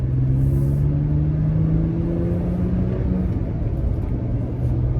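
A Toyota Tacoma pickup accelerates from a rolling start in second gear, its engine rumbling steadily and building in pitch. The drone is loud and continuous, with no talk.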